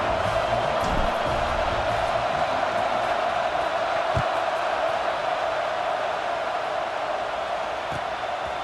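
A stadium crowd roars steadily at a Penn State at Alabama college football kickoff in EA Sports College Football 26, a dense, unbroken wash of cheering that stays loud and even throughout.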